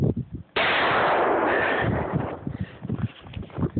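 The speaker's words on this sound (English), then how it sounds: "357 Magnum on a pineapple." A single loud, close .357 Magnum revolver shot bursts into a pineapple target outdoors. A long, ringing crack and echo fade over several seconds.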